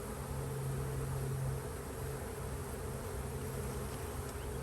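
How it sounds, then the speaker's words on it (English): Honeybees crowd over frames from a late-season swarm, a steady close buzzing hum that carries on without a break throughout. "There's a lot of bees on there"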